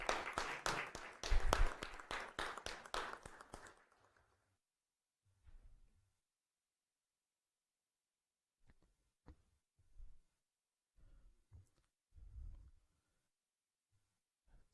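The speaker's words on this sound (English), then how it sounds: "Let's give them a round of applause as they join us." Audience applause fills a Rochester city council meeting chamber, a dense burst of clapping for about four seconds before it fades into near silence broken by a few faint bumps and shuffles.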